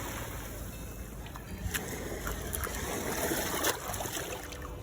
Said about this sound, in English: Let's give it a bit of a rinse.